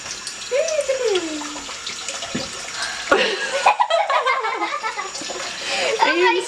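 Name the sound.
tap water running while washing cucumbers over sink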